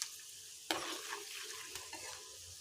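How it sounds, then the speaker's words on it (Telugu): Light frying in a pan for a cabbage egg fry, with a soft steady sizzle and a sudden stir scrape partway through, faint and close. "అందుకే లైట్గా ఫ్రై అయ్యేలా చూస్తున్నాం."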